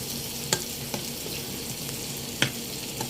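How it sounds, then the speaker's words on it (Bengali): Shrimp frying together with onion and chili in a pan, a soft continuous sizzle with a few sharp clicks of a spatla stirring, fairly faint and steady, without talk. "এটা পেতেই আমি একসঙ্গে এগুলো ভাজছি"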